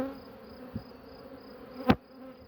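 Honeybees at a drone-rearing hive drone steadily at close range, with a sharp buzzing pass sweeping near the microphone late on.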